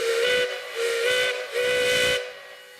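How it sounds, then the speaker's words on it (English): The steam whistle of Sierra No. 3, a steam locomotive whose whistle has been in use for over 70 years, sounds three loud, close blasts with a steady tone and hissing steam, each separated by a brief gap. "the rebuild of Sierra No. 3's iconic steam whistle, which has been on the locomotive for more than 70 years"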